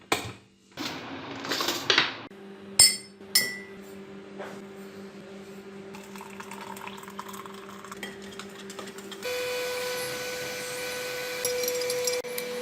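Coffee being made in a home kitchen: a few sharp clinks of cups and glassware near the start, then a steady machine hum and hiss that gets louder toward the end.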